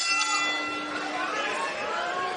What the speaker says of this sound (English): The bell and round 4